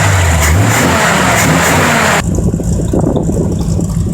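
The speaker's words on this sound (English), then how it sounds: "4100 carburetor runs real good." A 1966 Ford Galaxie engine idles on a rebuilt Autolite 4100 carburetor, a loud steady mechanical roar close by that gives way to a rougher, grittier running sound halfway through.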